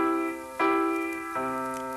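Amazing Grace chords in 3/4 time played on a keyboard: a sustained chord is struck, then two more chord hits follow, each ringing and fading, with no talk.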